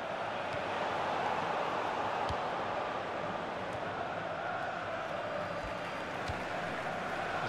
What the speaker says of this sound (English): the crowd really enjoying it